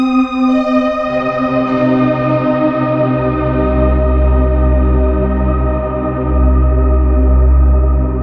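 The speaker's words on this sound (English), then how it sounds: "Really has that like late 70s reverb sound, that dense, dark, heavily modulated, low DAC type sound." A dense, dark, late-1970s-style reverb wash from an Omnisphere 3 software synth, with wobbling modulation swells beneath sustained tones, deep rumbling low end building and lingering without any voice.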